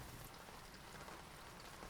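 Evening rain pattering on window glass, a soft, steady, continuous hiss of many fine drops with no breaks, faint and close.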